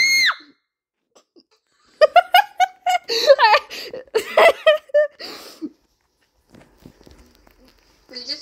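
A person playing the game Color or Die lets out short, high-pitched screams and squeals mixed with giggling and bursts of laughter, loud and close, with quiet gaps between.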